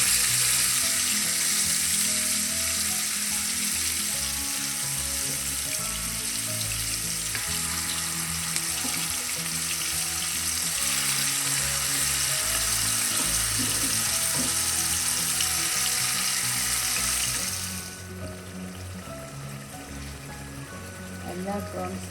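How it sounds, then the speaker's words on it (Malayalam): Prawns shallow frying in oil in a kadai over a medium flame, a steady close sizzle and crackle with someone talking over it, the frying softening near the end. "എല്ലാ പ്രോൺസും നമുക്ക് മീഡിയം ഫ്ലെയിമിൽ ഷാലോ ഫ്രൈ ചെയ്തെടുക്കാം."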